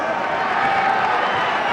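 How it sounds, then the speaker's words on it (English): Crowd at a Pride Fighting Championships mixed martial arts event, a dense roar of cheering fans in an arena, loud and sustained throughout. "The crowd seems super pumped for this fight."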